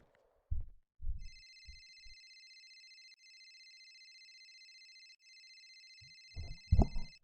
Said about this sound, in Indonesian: Telepon.